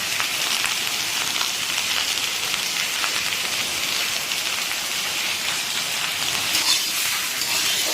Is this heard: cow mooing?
no